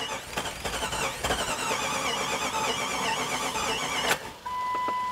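An abandoned SUV billed as the world's fastest cranks on its first start, a loud busy engine churn with squealing tones holding steady for about four seconds before a sharp thump and a drop to a steady electronic tone.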